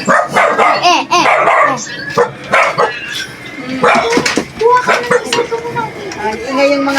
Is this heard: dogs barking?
yes